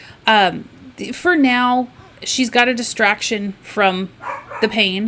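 A dog barks in several quick sharp yips and bow-wows between stretches of someone talking, the barks close and loud, mixed with her speech.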